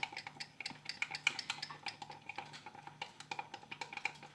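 A spoon stirs sourdough sandwich bread mixture in a bowl, producing a quick, steady run of light clicks and taps against the side, fairly quiet and without voices.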